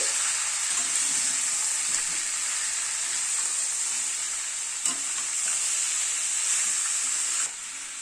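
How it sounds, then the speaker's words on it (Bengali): Chicken sautéing in a pan with turmeric and Kashmiri red chilli, a steady bright sizzle with stirring scrapes throughout, close and continuous with one sharp clack near the end; no talking. "হাফ চামচ হলুদ দিলাম হাফ চামচ কাশ্মীরি লাল মির্চ দিলাম সব দিয়ে চিকেনটাকে একটু কষিয়ে নেবো"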